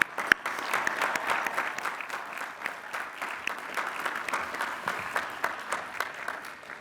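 A commencement crowd at Lehigh University's 2018 spring ceremony applauds Educational Specialist and Master's degree recipients, with crisp, distinct claps forming a steady, moderately distant ovation that carries on evenly for about seven seconds.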